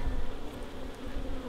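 Honeybees in an opened hive give a steady, dense buzzing drone at moderate level, close by and continuous, with no talking.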